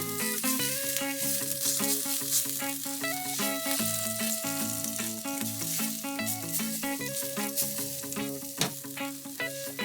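Curry powder, white mustard seeds, cumin and turmeric frying and being stirred in a pan, giving a steady close sizzle throughout with no talking, overlaid by clear tonal musical notes.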